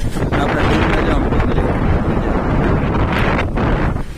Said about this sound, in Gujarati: ડેમના બારા ખોલ્યા ને પાણી ફળભળાટી કરતું આવે છે